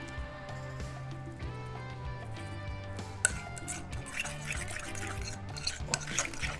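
Bourbon compound butter being stirred and worked in a bowl for grilled ribeye steak, a soft, steady squishing stir with occasional scrapes, heard close under a continuous low musical backing.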